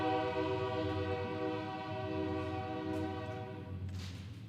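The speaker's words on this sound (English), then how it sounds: "I'll wait till the train goes by." A train passes with its horn sounding a long, steady chord throughout, heard from indoors at a city council meeting, with the rumble fading slightly near the end.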